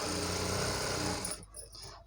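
Sewing machine stitching the main fabric of a baby frock, a steady close whirring run that stops abruptly partway, followed by faint handling noise.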